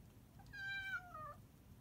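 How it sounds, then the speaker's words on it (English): A single drawn-out cat meow, faint and close, rising then sliding down, over quiet room noise. "That's my cat, Shad."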